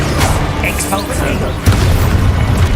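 A spell explosion in the video game Hogwarts Legacy: a sudden deep boom that hits midway and rumbles on under game noise, with a player's shouted voice just before it.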